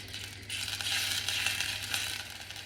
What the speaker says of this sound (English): Just give that a little stir around.